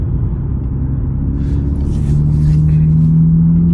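A car being driven, a steady loud low engine rumble and road drone from inside the cabin that swells slightly toward the end, with no speech over it.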